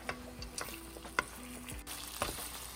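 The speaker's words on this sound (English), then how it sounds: "To this fried onions, I'm adding the trotter and we'll saute it for at least 2 to 3 minutes." Pig trotters sauté in a pan with fried onions, a steady close sizzle broken by a few sharp stirring scrapes and clinks, with no voices.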